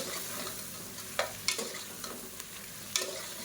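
Mushrooms sautéing in a pan for biryani, a steady soft sizzle with occasional scraping stirs of a spatula, close and without talk.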